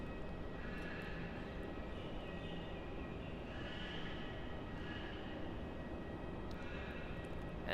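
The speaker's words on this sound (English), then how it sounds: "The daily Cathay Pacific CX-105 flight. About to touch down there on runway 16." A Cathay Pacific CX-105 heavy airliner touches down on runway 16 at Melbourne Airport, a steady, distant broadband jet roar that holds evenly throughout with no voices.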